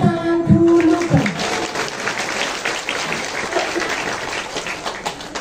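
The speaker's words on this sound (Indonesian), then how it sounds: "Tepuk tangan dulu, kan." Audience applause at a live Islamic religious gathering in Watuagung, Tambak, Banyumas; a brief musical tone fades at the start, then steady crowd clapping continues at moderate loudness throughout.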